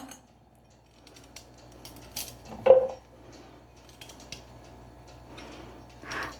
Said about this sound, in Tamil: இப்போ இதை கொஞ்சம் குட்டி குட்டியாக கட் பண்ணி எடுத்துக்கலாம்